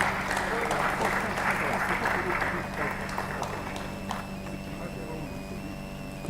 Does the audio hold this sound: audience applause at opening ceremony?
yes